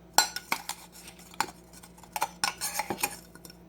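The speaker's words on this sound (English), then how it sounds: "I have a very small baby spoon, and I just use it to spread the little bits out." A very small baby spoon scrapes and taps inside the plastic grounds container of a KitchenAid coffee grinder, making bright, irregular clinks and scrapes. They come in quick clusters, close and fairly crisp, with no talking.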